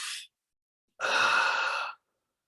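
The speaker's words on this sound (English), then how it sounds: "So I'm going to demonstrate that again. So we're breathing in." A single deep, breathy inhalation during a meditation breathing exercise, lasting about one second and close to the mic, preceded by the tail of an earlier breath, with silence around it.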